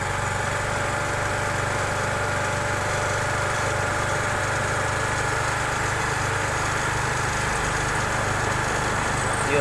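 A TVS Jupiter scooter engine idles steadily and close up during a mileage adjustment, a continuous, even putter without any pause.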